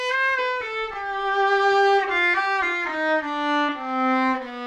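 Violin recorded through a blend of ribbon and contact microphones, playing a bowed melody of sustained, gliding notes with rich overtones, close and clear with no talking.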